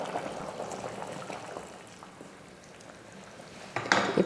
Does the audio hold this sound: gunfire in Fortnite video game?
no